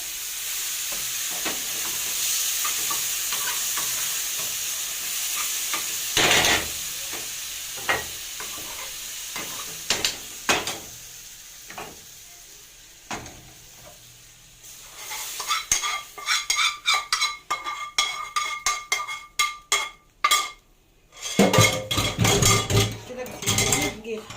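Spinach is stirred in a frying pan, with a steady sizzle of frying under repeated scraping and clinking of a spoon against the pan, the stirring growing busier and louder toward the end.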